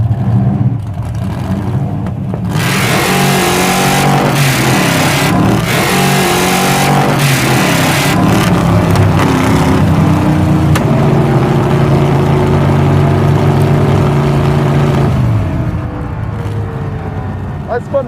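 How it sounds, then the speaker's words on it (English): A 1969 Pontiac Firebird does a burnout, its engine roaring loudly and continuously with rising and falling revs and tire noise, close by for most of the stretch before easing off near the end. "All right, good burnout."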